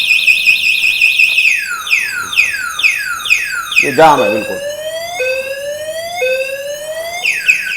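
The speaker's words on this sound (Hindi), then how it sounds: "नहीं हो सकता सर, सायरन बज जाएगा।" A Joy e-bike Mihos electric scooter's anti-theft alarm sounds loud and close, cycling through warbling, sweeping siren tones that shift pattern partway through, with someone speaking briefly over it.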